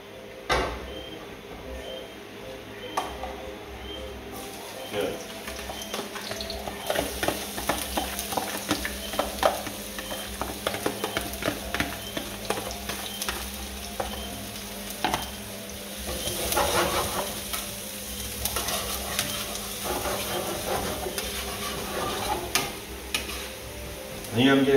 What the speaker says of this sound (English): I'm going to sweat this onion and garlic off